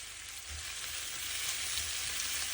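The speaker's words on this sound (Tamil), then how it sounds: "கூட கருவேப்பிலை, 2 சுட்டு கருவாப்பட்டை துண்டு எல்லாத்தையும் சேர்த்து நல்லா வதக்குவோம்." Chillies, curry leaves and cinnamon pieces sauté in oil in a pan, making a steady, even sizzle with faint stirring, fairly quiet and close, with no talking.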